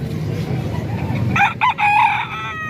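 A Black Knight bloodline rooster crows once, loud and close, its call rising in the second half over a murmur of background noise.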